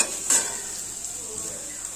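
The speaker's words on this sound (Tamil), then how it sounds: "நான் ஒரு வானல் வச்சு 2 ஸ்பூன் எண்ணெய் விட்டு 1 ஸ்பூன் கடலைப்பருப்பு, உளுந்தம்பருப்பு, 2 காஞ்ச மிளகாய், பெருங்காயம், ஒரு பெரிய வெங்காயம் போட்டு வதக்கியிருக்கேன்." Onion with chana and urad dal, dried chillies and asafoetida sautéing in a little oil in a pan: a faint steady sizzle with a quick scrape of a spoon near the start, no talking.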